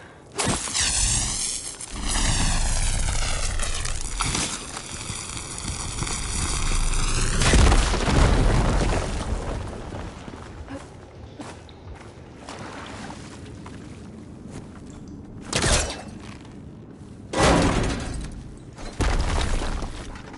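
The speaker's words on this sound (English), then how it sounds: "Should be able to blow up that fire gleam." Fire gleam blown up in Horizon Forbidden West, with sweeping tonal effects at first, then a heavy booming detonation that rolls into a long rumble, followed by several sharper blasts and debris hits later on.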